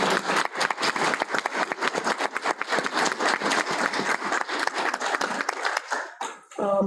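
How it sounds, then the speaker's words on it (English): Applause rings out at a board business meeting, a steady dense round of clapping from the room that carries on for several seconds before tapering off near the end. "So let's give Suzanne a big round of applause."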